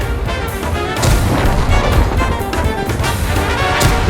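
Tank gunfire in a World of Tanks-style tank battle, destroying two artillery pieces: heavy booming shots and crashing impacts over a constant roaring engine and battle din, loud and close, with no voices.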